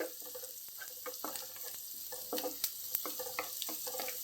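Onions fry in a pan for a mixed vegetable curry with a soft, close sizzle, broken by irregular scraping and stirring taps.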